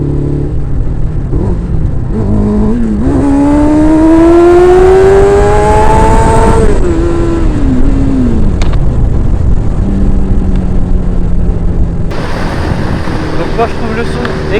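A 1998 Kawasaki ZX-6R sport motorcycle with an open exhaust revs up in a rising, throaty wail, holds high, then drops and idles roughly, loud and close.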